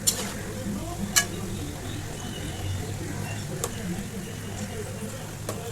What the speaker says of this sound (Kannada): ಈ ಥರ ಕಂದು ಬಣ್ಣಕ್ಕೆ ತಿರುಗುವವರೆಗೆ ಇದನ್ನು ಫ್ರೈ ಮಾಡಿಕೊಂಡು ತೆಗೆದುಕೊಳ್ತೇನೆ